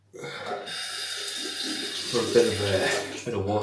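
Tap water runs steadily from a faucet into a sink while wetting the face for a wet shave with a Karve safety razor, a continuous close splashing stream with a brief surge partway through.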